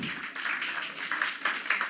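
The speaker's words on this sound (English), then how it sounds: "whoever is present can clap a bit more, bit loudly" An auditorium audience at a university technology quiz claps steadily in a dense, continuous patter of many hands, moderately quiet and heard alone.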